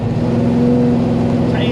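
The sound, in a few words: loud car engine with Holley Dominator carburetors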